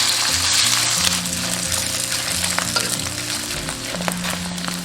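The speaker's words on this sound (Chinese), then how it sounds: "下入五花肉，煸至油底" Pork belly fries in a little cooking oil in a wok, giving a dense, continuous close sizzle with crackling spatters under a low steady hum, and no voices.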